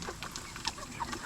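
Several chickens cluck softly and repeatedly nearby, a busy scatter of short calls with no talking.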